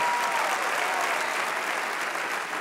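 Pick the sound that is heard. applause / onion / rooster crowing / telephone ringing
applause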